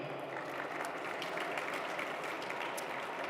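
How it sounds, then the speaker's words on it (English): Audience applause for a panel at a gaming event stage, a steady dense wash of clapping lasting throughout at moderate, slightly distant level, with no talk over it. "big round of applause for the panelists today."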